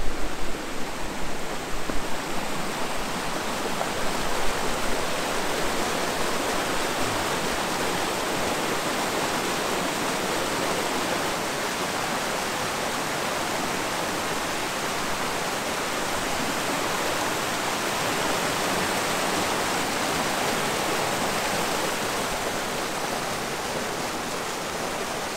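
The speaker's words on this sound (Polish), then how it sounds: "Zobaczymy wodospad." A waterfall in Chochołowska Valley, Tatra Mountains, roars in a constant, dense rush of water, loud and unchanging throughout with no voices.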